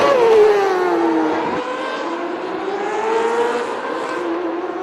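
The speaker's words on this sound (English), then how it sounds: "Next group out on the speedway, Matt Janis in car number 2, Tyler Thompson" Race cars circling the indoor dirt track speedway at the PPL Center in Allentown, Pennsylvania, engines loud and near, pitch swooping as they pass and rise again, no talk over them.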